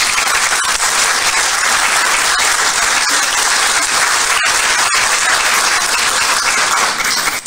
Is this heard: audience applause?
yes